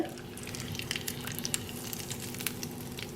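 Curry leaves dropped into hot oil in a pan just after the stove is switched off, tempering for a beetroot chutney; a close, steady crackling sizzle with scattered sharp pops, no voices.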